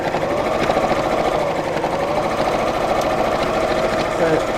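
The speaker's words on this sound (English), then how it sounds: "I'm going to sew across the bottom" A sewing machine stitches straight across the bottom of a fabric bag, running as a loud, continuous close-up whir with a rapid rhythmic chatter throughout.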